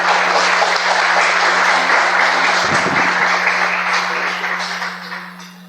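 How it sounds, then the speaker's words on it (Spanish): An audience at a live history talk gives a round of applause for Laura, a dense, even wash of clapping with a low steady hum beneath that tapers off toward the end. "un fuerte aplauso a Laura"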